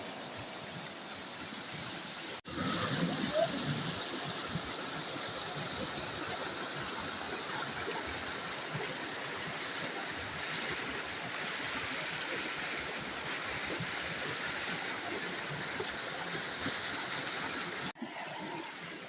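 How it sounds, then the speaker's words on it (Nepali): A village river in Okhaldhunga, Nepal, rushes in a steady, full, even roar with no breaks, close by and continuous, with no voices over it. "कति राम्रो छ नि खोला"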